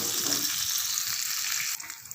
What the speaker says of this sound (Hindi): इसको तकरीबन हम 10-12 मिनट के लिए फ्राई करते हैं